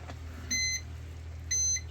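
A kitchen timer goes off during home canning of hot pepper bacon jam: two short electronic beeps about a second apart, each a quarter-second long, sounding clearly over a low, quiet room hum.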